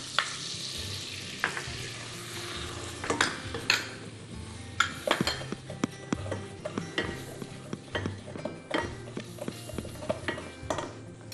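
Rice flour cooking with oil in a pot for a cream soup: a soft, steady frying sizzle with frequent sharp clinks and scrapes of a utensil stirring against the pot, fairly close and without talk.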